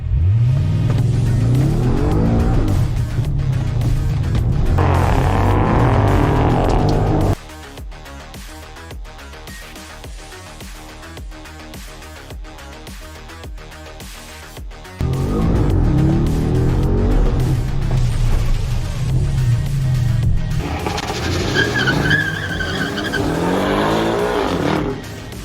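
A Mini Cooper and a Porsche 718 Cayman lap a race track, engines revving loudly in rising and falling sweeps with tire squeal, alternating with a quieter stretch of distant mechanical noise before the roar returns.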